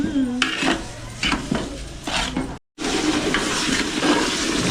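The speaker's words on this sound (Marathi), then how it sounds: "चला रवा भाजा व्यवस्थित." Semolina roasting in ghee over a stove, with metal utensil scrapes and clinks against the pan in repeated strokes over a steady sizzle, a brief break midway, and voices talking faintly alongside.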